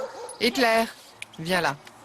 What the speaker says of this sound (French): C'est un chien très gentil et affectueux.